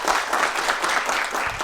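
An audience claps in a dense, sustained round of applause at a PBAK 2020 new-student orientation livestream at IAIN Ponorogo, the clapping steady and fairly loud with no speech over it.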